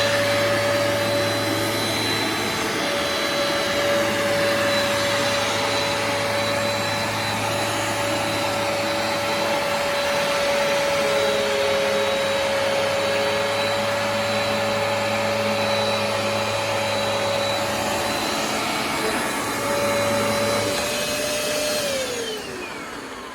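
A Vax Dual Power Pet Advance carpet washer extracts on a carpet with a loud, steady motor whine and suction roar. The tone dips slightly at times and stops near the end.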